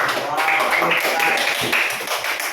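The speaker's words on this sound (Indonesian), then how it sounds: "Kita beri tepuk tangan untuk Kaila." A class of students clapping for a classmate in a classroom lesson, a brisk spread of hand claps running throughout at moderate level, with some voices mixed in.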